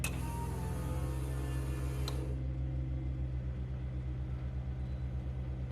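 Stock ECU fuel pump priming on a Ford F-350 ramp truck swapped with an 8.1 big block, a steady low mechanical hum with faint regular ticking, running alone and fairly quiet.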